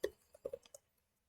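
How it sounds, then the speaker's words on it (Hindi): A few light computer mouse clicks, sharp and close, in a quick irregular cluster followed by silence. "अब मैं इस पर क्लिक करता हूँ।"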